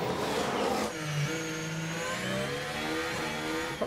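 Formula 1 race car engines in the F1 Manager 23 game as one car overtakes a Mercedes on the Baku circuit, a loud rush followed by high, rising and falling engine whines from several cars, close and alone.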